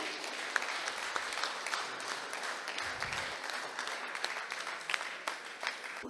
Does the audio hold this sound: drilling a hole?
no